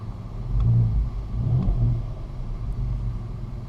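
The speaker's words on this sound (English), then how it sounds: "Yeah, it's blowing a bit, that exhaust" Mk5 Golf R32 running with a blowing exhaust leak, a steady low rumbling drone with slight swells in engine note, fairly close and with no voices.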